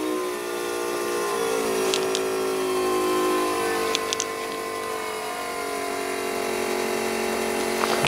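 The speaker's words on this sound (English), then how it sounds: "You can see our pump working away in there, hear the return, doing everything it's supposed to do." An electric fuel pump running steadily on a V8 lawnmower with a 5.9 Magnum engine, a constant whirring hum with faint ticks, close by and alone.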